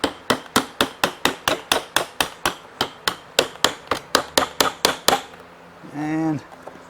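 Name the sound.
tapping a Mercedes R172 armrest part into place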